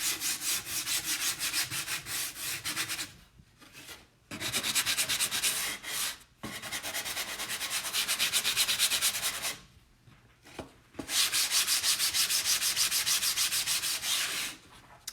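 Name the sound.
sanding a wood sign by hand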